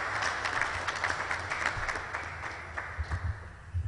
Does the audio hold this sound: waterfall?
no